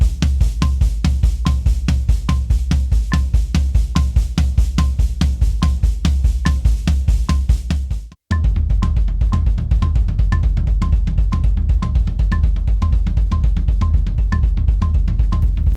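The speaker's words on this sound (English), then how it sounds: "what we do is we basically do semiquavers between the right hand on the floor tom and the bass drum" A rock drum fill of steady alternating semiquavers, the right hand on the floor tom trading with the bass drum. The even, driving pulse runs alone and loud, broken by one brief gap midway.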